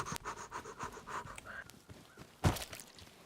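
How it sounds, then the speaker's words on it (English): Heavy, rhythmic panting breaths from a character in the survival video game Rust, repeating steadily at close range with scuffing and rustling noises mixed in and a sharper burst of noise near the end. "it's the breathing sounds that make this the most terrifying"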